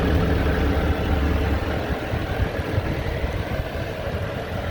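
A 2018 Chevrolet Silverado 3500 LTZ 4x4 dually's Duramax 6.6-liter turbodiesel idles with a steady, low diesel rumble and a slight clatter, close and continuous with no talking over it.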